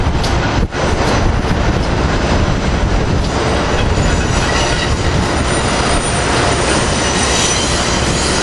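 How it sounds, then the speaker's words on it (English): An Acela high-speed train departs close by, with steady loud rumble, rattling wheels and some high metallic squeal throughout. "We have Acela train 2251 with power car 2030."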